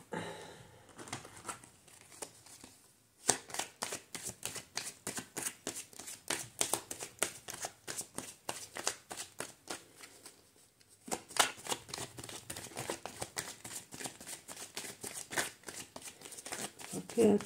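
Playing cards shuffled over and over in quick riffling bursts, a dense run of crisp flutters with brief pauses, close and fairly loud, with faint background talk.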